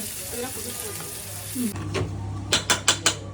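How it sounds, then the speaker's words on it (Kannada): Oil sizzling with cumin, mustard seeds and onion frying for a tempering in a North Karnataka Sankranti festival kitchen, a steady crackle followed by four sharp stirring knocks against the pan. "ಎಣ್ಣೆ, ಜೀರಿಗೆ, ಸಾಸಿವೆ, ಉಳ್ಳಾಗಡ್ಡಿ ಇದನ್ನು ಫ್ರೈ ಮಾಡಿ ಇದಕ್ಕೆ ಹಾಕ್ಬಿಡೋದು ಅಷ್ಟೇ."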